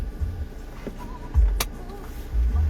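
A car passes close by outdoors, its low engine rumble swelling in two loud surges with a brief sharp transient between, no talk over it.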